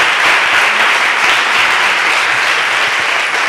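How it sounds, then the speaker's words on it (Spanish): A crowd applauding, dense continuous clapping at a steady loud level for a few seconds. "Así que un aplauso a la alcaldesa"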